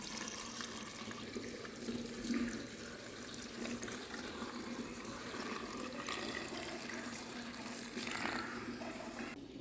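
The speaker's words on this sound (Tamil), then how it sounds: "இப்போ நம்ம ஆறி இருக்கிற அந்த தண்ணியையும் அதில் சேர்த்துக்கணும்." Cooled water is poured over gooseberries in a jar as a continuous, even gushing stream that rises slightly in places, close by with no voices.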